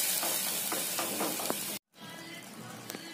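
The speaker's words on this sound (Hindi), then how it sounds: "इसे भी दो से तीन मिनट हम रोस्ट करेंगे, ताकि पालक और टमाटर का कच्चापन निकल जाए।" Spinach and tomato roasting in a pan for a vegetable khaman dhokla, giving a soft continuous sizzle with a few light stirring taps, cut by a brief silent gap before the frying resumes.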